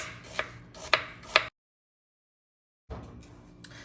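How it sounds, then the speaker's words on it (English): Knife chopping fresh apples on a cutting board for an apple cinnamon spice cake: three crisp, close thuds in quick succession, a stretch of silence, then faint kitchen handling noise. "Now that all of my apples are cut"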